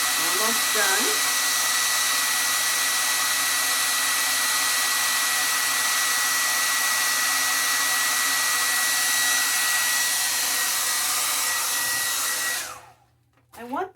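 Steady, loud whir of a hair dryer drying a layer of paint runs continuously with a high tonal whine, then cuts off abruptly near the end, leaving a brief quiet moment and faint rustle.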